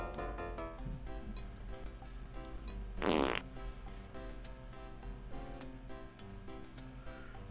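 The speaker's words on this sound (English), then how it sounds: "More farting." Comic fart noises from the adventure game Freddy Pharkas: Frontier Pharmacist, with one loud, rippling blast near the middle over a background of soft clicks and ticks, and no voices.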